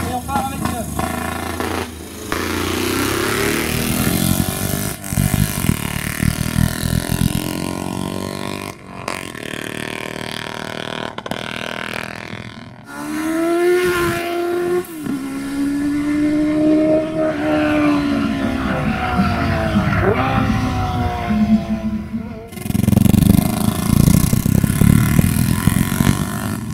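A 1973 3.5 motorcycle sidecar engine starting at a historic hill climb, loud and close, rising through revving pitch sweeps and then a heavy roar.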